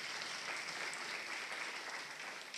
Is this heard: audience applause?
yes